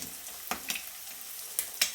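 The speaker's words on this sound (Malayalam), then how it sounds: "ഉള്ളി കരിവേപ്പിലയും കൂടെ അവസാനം മൂപ്പിച്ചെടുക്കാം" Onion and curry leaves fry in oil as a garnish while ottada is being made, giving a soft sizzle broken by a few sharp crackles and pops.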